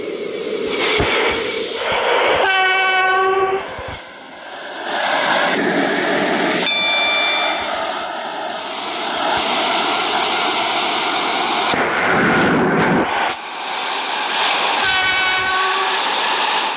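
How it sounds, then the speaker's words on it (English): Train arriving in the Roblox Stepford County Railway game, a steady loud rumble of rail running with repeated horn blasts sounding over it, the train noise continuous throughout and no speech. "This is a connect train to Stepford Victoria."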